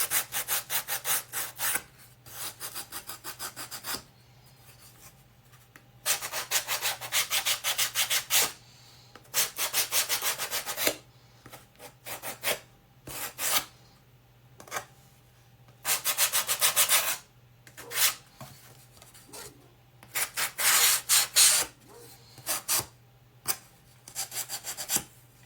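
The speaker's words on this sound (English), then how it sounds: "And I'm using like an 80 grit to take off that paint around the edges." Hand sanding along the painted edges and corners of a wooden piece with coarse 80-grit sandpaper, heard as bursts of scratchy rubbing strokes that start and stop repeatedly, close and fairly loud.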